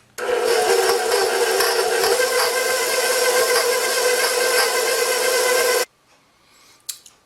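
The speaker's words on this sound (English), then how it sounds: "I'm going to turn the mixer back on" Stand mixer beating butter, egg yolks and icing sugar, a steady whirring motor hum held for several seconds before stopping abruptly, then near silence with a faint clink.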